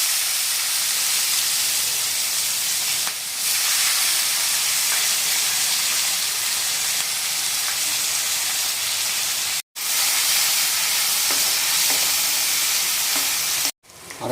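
Two medium chopped onions fry in oil with bay leaves, cardamom, cloves and cinnamon, a loud, dense and continuous sizzle broken by two brief sudden dropouts near the end.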